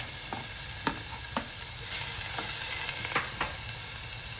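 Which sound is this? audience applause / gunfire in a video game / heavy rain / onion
onion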